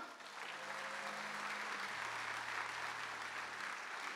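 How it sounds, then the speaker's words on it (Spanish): A presentation audience applauds steadily at a moderate distance, a dense continuous wash of clapping that holds even throughout with a low hum underneath. "un fuerte aplauso, por favor"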